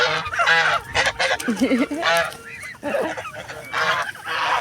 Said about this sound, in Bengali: এখানে অনেকগুলো রাজহাঁস দেখেন